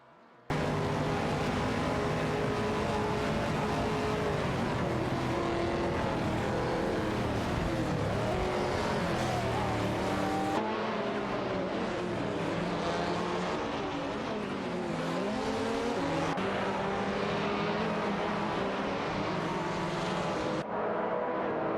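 Several GT4 race cars, including an Aston Martin Vantage GT4, battle closely around a circuit in a racing video game, engines droning loudly and continuously with shifting pitch as they jostle for position, no voices.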